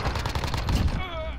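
Gunshots in Warzone, a quick cluster of close rapid shots over about a second, fading into a lower tail.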